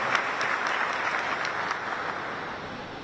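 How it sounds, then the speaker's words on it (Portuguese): An audience claps steadily through a solemn session honouring a medal recipient, the dense, even applause filling the hall at a fairly loud, constant level without a voice over it. "Uma salva de palmas, por favor."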